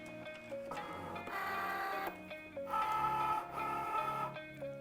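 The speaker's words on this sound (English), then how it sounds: "Then the machine will detect the material and load it in." A Cricut Joy cutting machine detects and draws in material with steady motorized whirring and stepping tones, pausing briefly between bursts of feed movement, close and clear with no talking.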